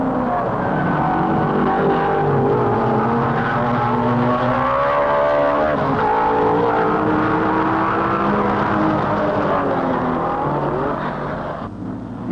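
A 1955 Mercedes 300SLR and a Jaguar race each other in the RAC Tourist Trophy, their engines roaring loud and near, with pitch rising and falling as they accelerate along the straight after a hairpin.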